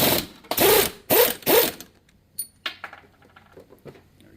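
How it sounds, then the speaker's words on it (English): A 1/2 inch impact gun works a 15/16 socket on the pulley nut of a Ford Motorcraft 6G alternator, giving three loud, close rattling bursts before falling quiet except for a few light clinks. "So I have our 1/2 inch impact gun here."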